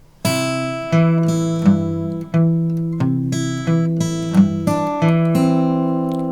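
Guitar picked slowly and clearly, a steady sequence of plucked notes over ringing bass strings, close and alone without speech.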